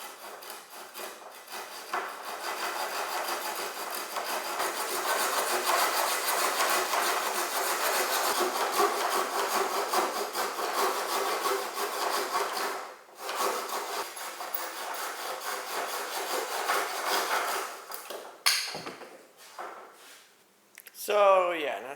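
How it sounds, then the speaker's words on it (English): A handsaw cuts through pallet wood while a chicken tractor is being built, giving a continuous close rasping scrape of steady strokes, with a brief pause partway and a few scuffs and knocks near the end. "And I'll film that so you can get an idea of how difficult it is to do this."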